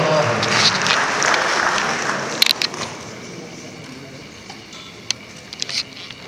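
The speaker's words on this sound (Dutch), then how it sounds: "Graag een applaus voor Sheila Lux." Audience applause at a fashion pageant finale, strongest at the start and then thinning into scattered claps with murmured crowd talk.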